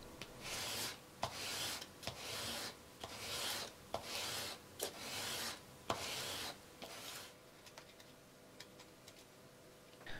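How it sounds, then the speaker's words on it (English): Sandpaper rubbed over a wooden crankbait fishing lure, close and quiet, in repeated rhythmic rasping strokes with small ticks and knocks between them, no voices. "I just finished it off with some sanding paper."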